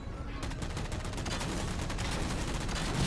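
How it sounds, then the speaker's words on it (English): Rapid, sustained machine gun fire in Halo 4, shooting at a Wraith tank; a dense stream of close shots rattles continuously for the whole stretch, with no talk. "if you just fire the machine gun at it"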